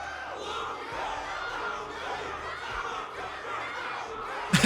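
A loud crowd in Honkai Star Rail roars and cheers continuously, a dense wall of voices with battle-cry shouts, ending in a few sharp louder bursts.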